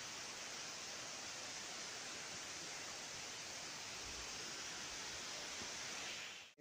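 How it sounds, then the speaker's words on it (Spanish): Constant rushing roar of the Tepechapan waterfall on a river near Santo Domingo de Guzmán, a broad even wash of falling water heard close and unbroken until it cuts off abruptly at the end. "Nos encontramos en la cascada Tepechapan, pero no es esta, es esta."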